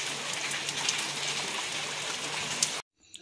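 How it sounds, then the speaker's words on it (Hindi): Evening rain in the Pithoragarh hills falls in a steady dense patter and hiss, moderately loud, then cuts off abruptly near the end. "शाम पड़ते ही बारिश भी आ गई है"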